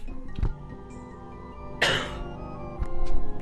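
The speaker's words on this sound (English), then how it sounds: "This means I'm gonna cough." A single cough bursts out near the middle, loud and close, over a soft background of video game music.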